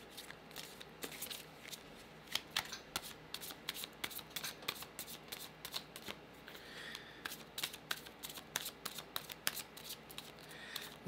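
Tarot cards are shuffled close up in a rapid series of crisp riffling flutters and taps, repeating steadily with short pauses between.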